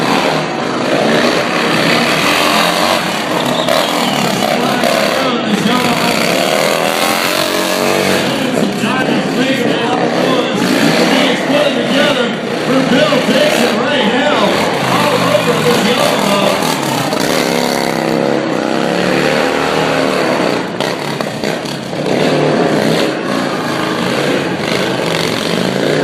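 A cruiser motorcycle revs hard and continuously at a stunt show at the Progressive Phoenix International Motorcycle Show. The loud, sustained engine roar is mixed with crowd noise and announcer talk for the whole stretch.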